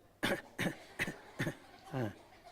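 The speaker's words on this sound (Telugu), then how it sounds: "రా అమ్మ, అందరు దగ్గుదాం రా ఒకసారి" At a Sunday church service, a congregation coughs together in five rough bursts spaced about half a second apart, fairly faint and heard alone.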